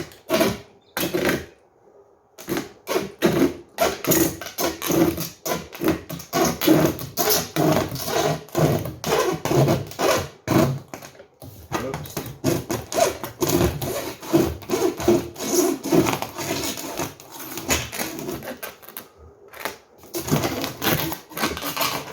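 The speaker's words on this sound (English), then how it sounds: "let's see how the hacksaw works" A hacksaw cuts through a polycarbonate sheet with its protective plastic film still on, giving steady rhythmic rasping strokes, close and loud, with a few short pauses between bursts.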